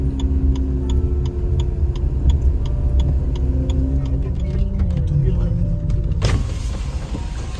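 Cabin of a moving car carrying a family, filled with a steady low engine and road rumble and a faint regular ticking, while voices talk inside; near the end a power window whirs and a rush of wind floods in.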